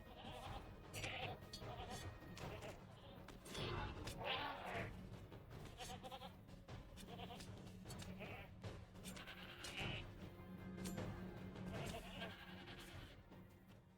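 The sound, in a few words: goats bleating in video game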